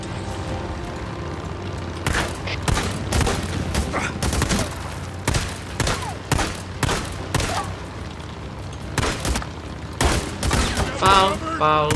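Bursts of gunfire from the video game Days Gone, repeated rapid volleys and single sharp shots spread across the whole stretch, loud over a constant game background, with a voice briefly talking.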